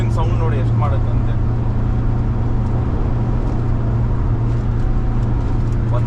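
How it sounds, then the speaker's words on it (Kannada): Steady engine drone and road roar inside a Toyota Innova cruising at around 120 km/h, a constant low hum filling the cabin, with a voice talking briefly at the start. "ಇಂಜಿನ್ ಸೌಂಡ್ ನೋಡಿ ಎಷ್ಟು ಮಾಡುತ್ತೆ ಅಂತೆ."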